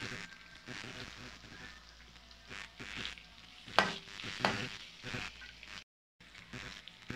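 Onions sauté in a pan with soft sizzling while a spoon stirs and scrapes at irregular intervals, close up and fairly quiet, broken by a short silent gap.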